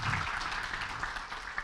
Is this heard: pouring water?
no